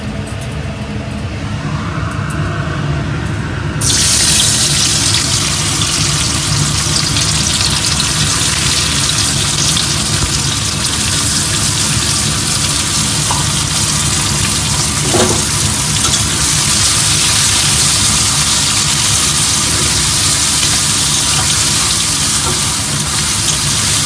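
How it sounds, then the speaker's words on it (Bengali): Sliced onions hit hot oil for birista and sizzle loudly, a dense steady frying hiss that swells after a few seconds and holds continuously, with faint kitchen clinks. "পেঁয়াজটা দিয়ে দেবো তেলে।"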